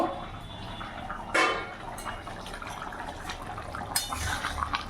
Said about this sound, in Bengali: আমি এখন ঢাকাটা করে দেখব।